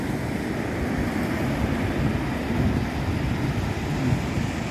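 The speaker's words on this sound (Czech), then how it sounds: "Dneska jsou také mírné vlny" Gentle ocean waves wash steadily at a Portuguese surf beach, a soft broad rush with light wind buffeting the microphone and no voices.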